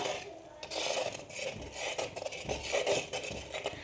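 A spoon scrapes and clinks against a pot while ghee is stirred into a ripe mango pulissery curry, the soft rhythmic scraping heard up close and fairly quiet.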